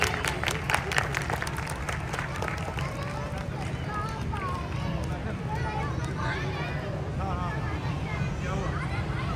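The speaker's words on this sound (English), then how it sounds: "a big round of applause, please." An audience at a school exhibition claps in a busy hall, with distinct claps at first that blend into a continuous murmur of crowd chatter and voices, all fairly distant and moderate in level.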